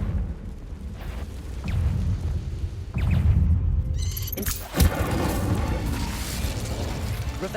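A fiery Confringo spell explosion in Hogwarts Legacy, a sharp burst near the five-second mark over a rumbling low-end bed, with crackling debris and a sustained roaring tail afterward; no voices.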